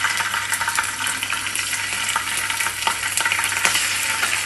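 Fish frying in hot oil in a pan, a steady dense sizzle with crackling spatters running continuously, close and moderately loud with no voices.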